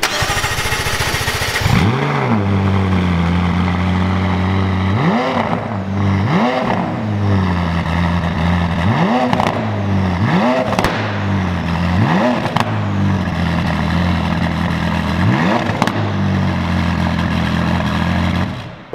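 McLaren sports car engine revving repeatedly, about six sharp throttle blips rising and falling over a loud, steady idle, close and unaccompanied by talk.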